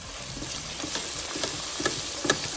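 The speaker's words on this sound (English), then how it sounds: "right now I'm adding the garlic paste as well as the ginger paste. Give it a good stir." Garlic paste and ginger paste sauté in a pan for Indian tomato rice, giving a steady close sizzle broken by several soft scraping stirs, with no talking.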